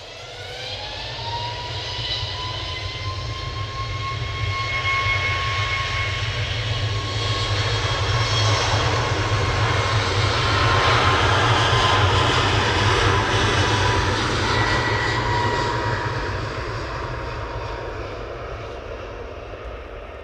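A Ryanair Boeing 737 jet at Manchester Airport, its engines roaring loud and steady as it passes at moderate distance, swelling toward the middle and slowly fading away, with no voices.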